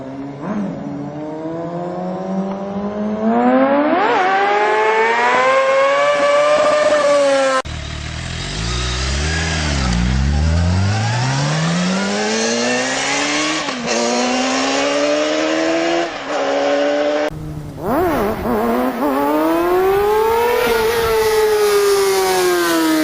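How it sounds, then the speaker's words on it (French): Several motorcycle engines rev loudly one after another, pitch climbing and dropping through the gears, close and continuous. "je voudrais vous parler des bruits que font certaines deux roues"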